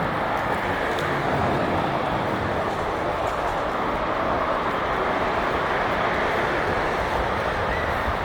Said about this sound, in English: you just hear the cars going by